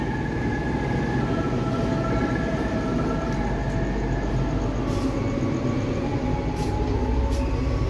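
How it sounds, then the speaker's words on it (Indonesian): The Lodaya passenger train, executive class, stands at the station before departure: a loud, unbroken low rumble and mechanical drone with a faint steady hum runs throughout, and no one speaks. "kereta api Lodaya yang saya naiki akan berangkat pukul 6:55"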